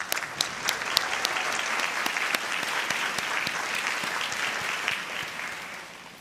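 A room full of people at a teacher of the year celebration claps steadily for honorees, a dense roll of applause with sharp individual claps standing out, tapering off toward the end.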